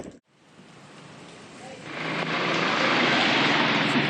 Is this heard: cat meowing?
no